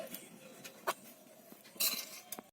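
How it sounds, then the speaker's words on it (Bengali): Soft sweets for a lengcha recipe are lifted from a wok onto a plate, with a few scattered metal scrapes and clinks of utensil on cookware, fairly quiet and close. "এবার আমি কড়াই থেকে তুলে নিলাম একটা প্লেটের মধ্যে"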